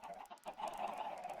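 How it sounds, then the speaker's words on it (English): Chickens in Minecraft cluck in short, close bursts, a quick run of fowl calls at moderate volume with no talk over them. "I got to deal with these chickens"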